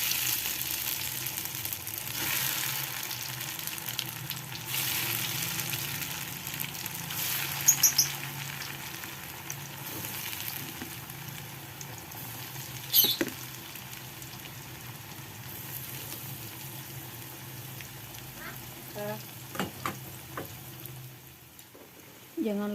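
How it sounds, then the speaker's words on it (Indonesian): Oncom frying in oil in a pan gives a steady soft sizzle with occasional clinks and stirring, while a person talks over it. "Kemudian kita lanjutkan dengan menggoreng oncomnya."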